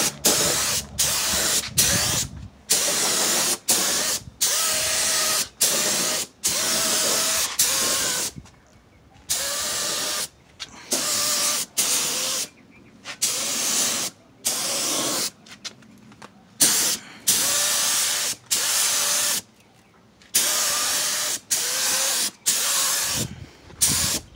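An aerosol can sprays a second coat of paint onto a car bumper in a cheap DIY repair, with many sharp, loud hissing bursts broken by brief pauses.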